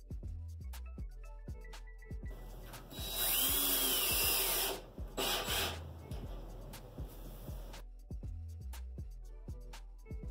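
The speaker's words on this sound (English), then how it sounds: "We drilled in the top screws of each mount first before drilling in the bottom ones." A power drill whirs in a sustained burst, pauses briefly, then runs again, driving screws into mounts in a small bathroom, with ticking and clicking handling sounds before and after.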